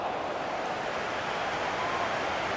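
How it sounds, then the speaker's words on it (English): A stadium crowd of football fans cheers during a FIFA 16 League Cup match between Swansea and Leicester, a steady broad roar heard throughout without commentary. "they're cheering them across the finishing line, aren't they?"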